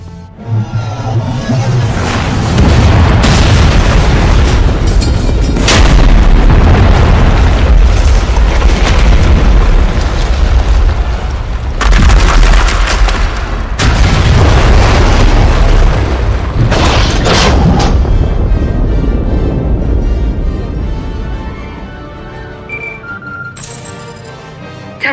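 Gunfire and explosions in Star Wars: The Old Republic, Knights of the Fallen Empire, during a siege: very loud, sustained booming blasts and bursts rolling over each other for about twenty seconds before fading out.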